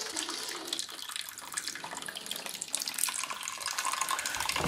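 Water rushes steadily through a heating system pipe just after a valve is opened, a broad hiss that stays constant and fairly close throughout.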